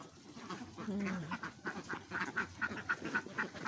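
Several ducks quack in a loose series of short nasal calls, close by and fairly soft, with no talking.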